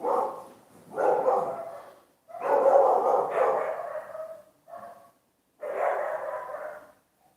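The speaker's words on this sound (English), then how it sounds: "just like those dogs that just barked, if you could hear that" Dogs barking in the Italian countryside, several bursts of barks and yips in irregular clusters over about seven seconds, fairly close and clear, with no talk.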